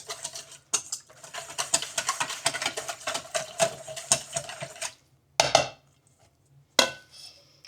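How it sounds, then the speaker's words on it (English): Whisking a beef marinade in a bowl: rapid rhythmic clinking and sloshing of the whisk against the sides, steady for several seconds, then a pause and two short final bursts. "Give it a good whisk"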